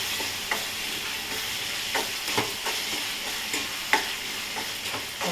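Prawns go into a village-style curry frying in oil in a pan, giving an even, hissing sizzle with occasional light scrapes and taps of a stirring spoon.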